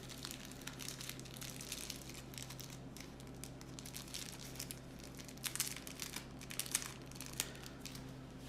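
Faint, close crinkling of plastic wrap charged with static, from unboxing a Memoir '44 board game expansion, soft rustles with occasional sharper crackles over a low background hum.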